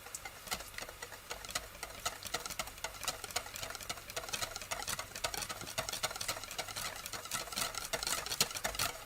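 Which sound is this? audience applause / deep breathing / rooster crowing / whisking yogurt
whisking yogurt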